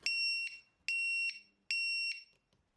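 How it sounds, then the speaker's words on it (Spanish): The lost-model alarm on a Wizard X220HV racing drone sounds three loud, shrill, evenly spaced beeps, each about half a second long, with short gaps of silence between them. "si no le damos va a empezar a pitar después de un rato y pita muy fuerte"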